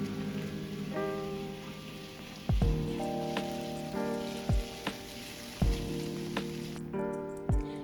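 Broth poured into a hot pan with garlic for tofu lemon piccata sizzles softly and steadily, a faint crackling hiss with a few light clinks and taps of a utensil against the pan.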